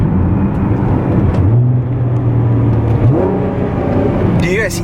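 A Nissan R35 GTR in stock factory form is heard up close. The engine hum rises in pitch, drops and then climbs again, with a mechanical whine and some faint background voices.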